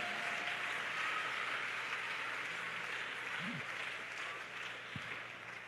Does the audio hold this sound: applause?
yes